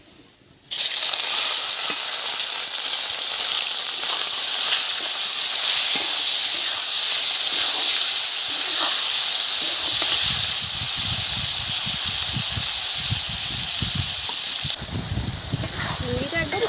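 River prawns dropped into hot oil seasoned with salt and turmeric burst into a loud, steady sizzle that holds for many seconds, with a voice talking faintly underneath toward the end.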